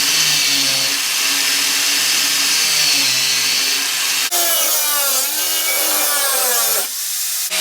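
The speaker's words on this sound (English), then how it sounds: "pull that piece of metal off that I cut" A power tool cuts metal on a Duramax pickup truck, giving a continuous harsh grinding whine that shifts in pitch and briefly catches near the end.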